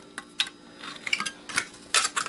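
Metal scissors snip through thin aluminum from a salvaged Xbox power supply, several sharp crunching cuts at an uneven pace, close up with no talking.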